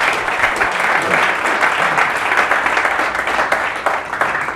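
At the close of a real estate investor association meeting in the San Francisco Bay Area, an audience claps steadily, a dense, even patter of many hands that carries on without a break.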